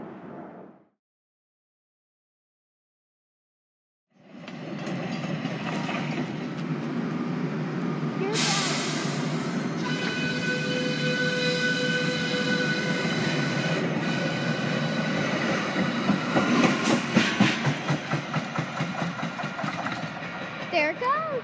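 A Dallas DART Blue Line light rail train rolls through LBJ/Skillman station with a loud, sustained rumble, screeching wheels and clattering, after a brief silence at the start.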